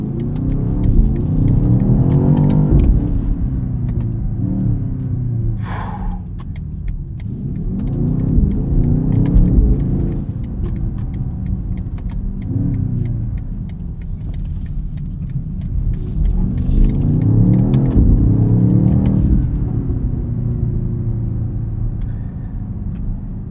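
A BMW XM Label hybrid SUV accelerates hard in repeated surges, its engine rumble rising in pitch through each pull before dropping back, loud and close from inside the cabin.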